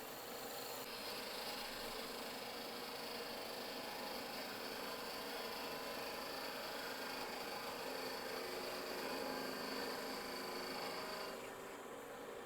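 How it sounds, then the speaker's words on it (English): A parting tool cutting a tenon in wood spinning on a lathe gives a steady, close, broadband rasping hiss that holds evenly for about eleven seconds before easing off near the end. "I'm going to use a parting tool to get the size of the tenon."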